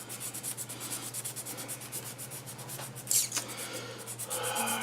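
Close, rhythmic rubbing strokes of sandpaper on a metal steering linkage for a 1956 Vic stock car, prepared for soldering, with a brief sharper scrape midway.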